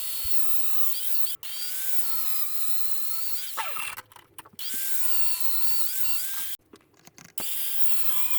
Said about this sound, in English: I cut every part to the proper length, then I prepare the angled surfaces at the end of the sections